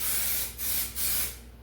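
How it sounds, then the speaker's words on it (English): Black enamel spray paint hisses from an aerosol can as a light guide coat is dusted onto a car door panel. The spray is one continuous close hiss broken by two brief pauses. "I'll take some black spray paint"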